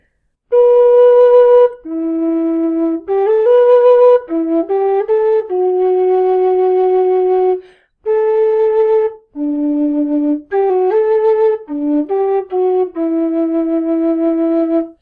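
An MK Pro low D tin whistle plays the Game of Thrones theme, pure breathy sustained notes in a lilting repeated melody with short pauses, loud and close, no speech.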